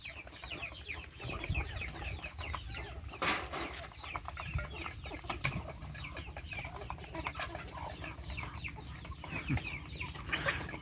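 Chickens cluck steadily over a continuous background of farmyard noise, with scattered soft calls and no talking.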